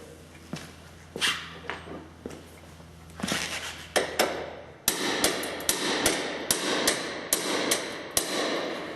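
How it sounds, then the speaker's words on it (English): Repeated sharp metallic hammer strikes on a center punch, close and loud, landing in a steady rhythm that quickens toward the end. "We'll take a hammer and center punch that first rib."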